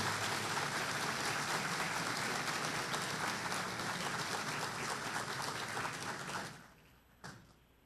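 Dense, sustained applause from an auditorium audience welcoming an engineer at a technology lecture, a continuous roar of many hands for about six seconds before it quickly dies away to near silence.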